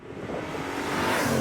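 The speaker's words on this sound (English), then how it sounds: "Just listen to how they refine the exhaust here." A 1995 Callaway C8 Supernatural Camaro, a Z28-based car, accelerating hard, its engine and exhaust swelling into a loud, rising roar up close.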